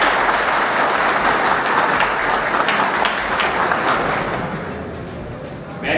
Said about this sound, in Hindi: सबसे पहले तो आप सबके लिए तालियां बजा दीजिए